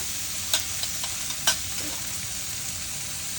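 Okra and brinjal with tomato sauté in a pan under a constant frying hiss, broken by a few sharp spoon-against-pan knocks, two of them louder than the rest.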